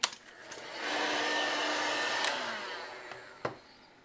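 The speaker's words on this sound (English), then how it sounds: "Right, so I'm going to use a heat gun, but you can just as easily use a flame." A heat gun blows a steady, loud rushing hiss at close range while it shrinks heat-shrink tubing on a homemade car battery jump lead cable, with a few faint clicks and knocks before and after.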